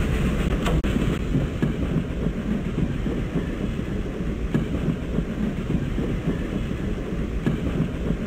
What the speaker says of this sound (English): The train is about to leave. Please hurry.